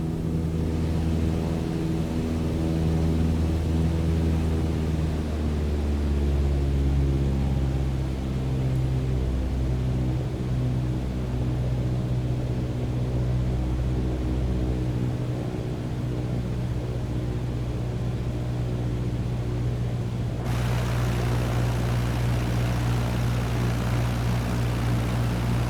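Propeller aircraft engine droning steadily in Microsoft Flight Simulator during level flight after take-off, a loud continuous hum whose pitch eases lower as the throttle is pulled back, with no talk.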